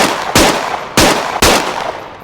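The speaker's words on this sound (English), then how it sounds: "the gun is ready to shoot again." Three sharp gunshots from a rifle in the VR shooter game Onward, spaced irregularly over about two seconds, each a loud broadband crack with a short decaying tail, no talking.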